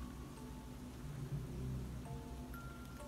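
Rain falls steadily in the dark as a sound effect in a horror story, a faint continuous hiss with soft patter and a low rumble underneath, no voices.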